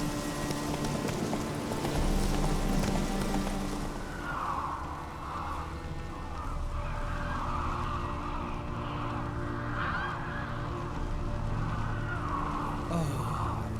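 Horse hooves gallop in steady rhythmic clip-clop beats in The Witcher 3, moderately loud over a low ambient game rumble, continuing throughout.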